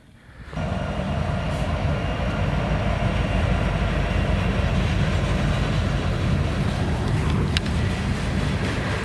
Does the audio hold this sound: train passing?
yes